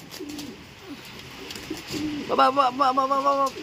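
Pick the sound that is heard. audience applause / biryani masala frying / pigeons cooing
pigeons cooing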